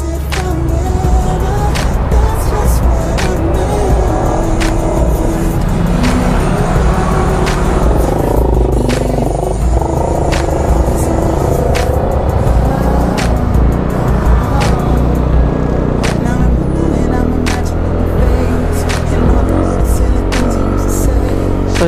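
Steady, loud road traffic in a Philippine street, with engines and passing vehicles rumbling continuously throughout and faint talk now and then.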